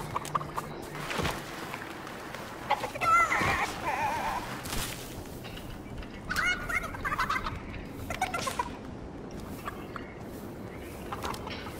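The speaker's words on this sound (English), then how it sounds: "Oh, chicken." Fowl calls in a PC video game, several short clucking and gobbling bursts scattered over steady game noise, moderately loud, with no talk.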